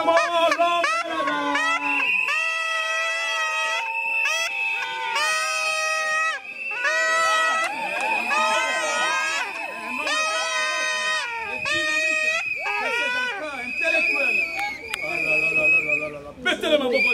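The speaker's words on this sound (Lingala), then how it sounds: "Acclamons l'homme." Wedding celebration crowd at a civil ceremony, with shrill whistles and high ululating cries ringing out continuously over dense cheering and music, loud and close throughout.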